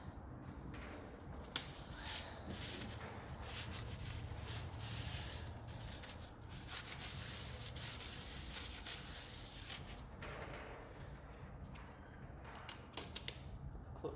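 A shop towel wipes and rubs across a clutch pressure plate from a VW Caddy 2.0 BKD engine, giving soft, continuous scrubbing and swishing strokes up close, fairly quiet, with a few small taps.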